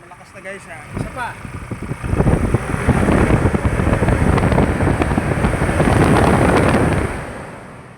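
Strong, steady rush of air from the engine fan of a Ford Everest being checked for an engine temperature problem, swelling to a loud, sustained blast after a few faint knocks and clicks, then easing off at the end.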